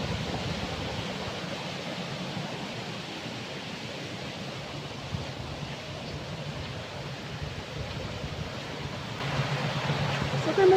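Steady broadband rush of water flowing downhill at Ogden Water nature reserve in the UK, continuous and fairly close, with no clear talk over it.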